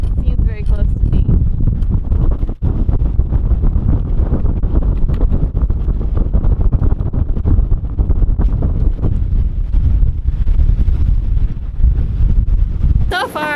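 Gale-force wind around a trimaran dragging anchor near a ferry terminal: loud, relentless buffeting roars across the microphone for the whole stretch, with faint voices buried in the gusts.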